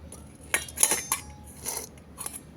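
Homemade cow ghee being strained through a sieve into a bowl, heard as a few close metallic clinks and scrapes of utensil against metal in short bursts.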